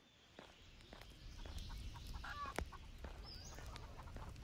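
Chickens clucking inside the video game Hookah Cafe Simulator, soft scattered bird calls and clucks with faint footstep-like taps over a steady low game background.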